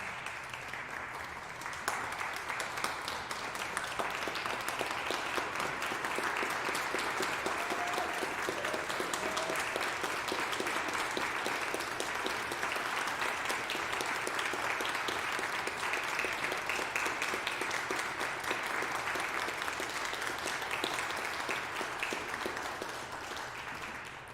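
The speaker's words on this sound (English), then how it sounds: "give them your applause" An audience gives student performers a steady, dense round of applause after a Pipes Alive! organ concert, loud and sustained for over twenty seconds with no break.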